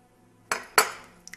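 Two quick clinks of dishes knocking together, close and crisp, followed by a faint tinkle at the end.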